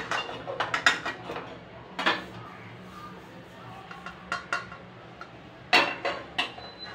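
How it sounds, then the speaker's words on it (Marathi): Roasted semolina scraped and tipped from a pan onto a plate: sharp metallic scrapes and clinks in uneven bursts, close and moderately loud, with quieter gaps between them. "आता आपण गॅस बंद करूया आणि हा रवा एका ताटामध्ये काढून घेऊया."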